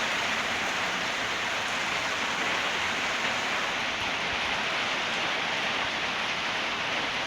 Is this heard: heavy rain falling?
yes